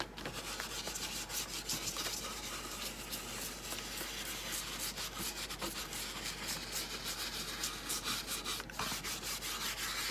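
Brown wax is rubbed by hand along the wooden edges of a garden angel craft piece, giving a steady close scrubbing rasp that continues without pause, with no talk.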